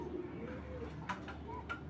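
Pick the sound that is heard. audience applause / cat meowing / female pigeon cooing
female pigeon cooing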